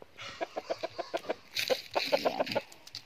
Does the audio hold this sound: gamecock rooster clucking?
yes